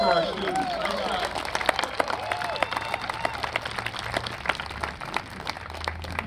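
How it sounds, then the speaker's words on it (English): Audience applauding students of a high school marching band at a fall show, a dense patter of hand claps with scattered crowd murmur, fairly close and continuous throughout. "Let's give it a round of applause for our students."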